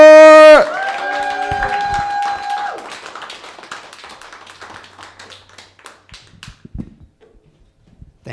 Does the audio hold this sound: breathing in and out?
no